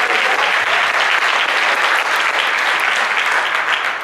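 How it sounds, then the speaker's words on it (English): Sustained, loud applause fills a hall from the audience at a Los Angeles mayoral debate, steady and dense for several seconds without a break. "Please give them a round of applause."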